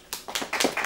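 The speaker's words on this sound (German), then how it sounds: "Ich kann im Studio einmal einen Applaus geben" A studio comedy-show audience gives a few scattered claps, sparse separate hits building slightly over under a second, fairly close and moderately loud.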